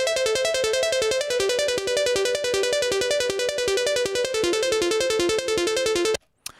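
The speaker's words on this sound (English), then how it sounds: "here's just what Trancy sounds like when we hit the drop" A bright Mini Moog synth preset called Trancy pulses in a fast, steady arpeggiated pattern at a trance drop, loud and dense, stopping abruptly near the end.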